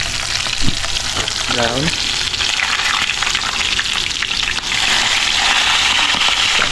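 Catfish sizzles and crackles in hot oil, a dense continuous frying hiss with occasional louder pops and bubbling close up, while a brief word is spoken over it.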